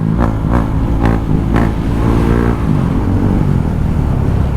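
A KTM 390 Duke motorcycle engine pulls steadily and loudly, with a few brief clicks early on as it shifts into sixth, then a droning rumble at cruising speed.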